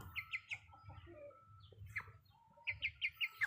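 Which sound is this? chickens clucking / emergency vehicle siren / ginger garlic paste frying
chickens clucking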